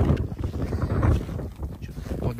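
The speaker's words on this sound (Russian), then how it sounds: "Да, поземка, ветер очень сильный." Strong wind roars across a frozen river in Yakutia, near the village of Elgyai, carrying drifting snow; a loud, steady gusting buffet fills the clip close to the microphone without a break.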